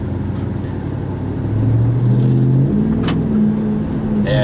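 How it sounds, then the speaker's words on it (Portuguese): A Dodge Ram 1500 4x4 pickup with a 4.7-litre V8 and a loud custom exhaust revs close by, a steady heavy drone that climbs in pitch through a couple of throttle rises, loud and alone. "escapamento nele especial, cara. Tá? Pra fazer aquele barulhão mesmo, tá?"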